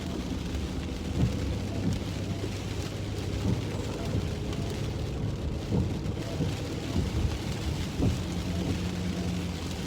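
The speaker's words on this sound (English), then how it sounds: "it's just been raining on and off and on, however you want to say it" Rain falls steadily outdoors in an on-and-off shower, a constant broad hiss with low rumbling underneath and scattered nearby drips, with no talk.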